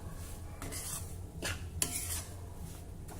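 Semolina (rava) roasting in a pan is stirred with a utensil, giving soft scraping strokes and a few brighter scrapes against the metal over a quiet background hiss.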